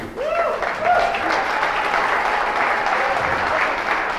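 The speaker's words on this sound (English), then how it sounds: "Give a round of applause to Ketan Bhai Doshi" Audience at a youth camp at Mo Ranch bursts into applause, a full, steady round of clapping from a crowd with a few voices briefly audible at the start.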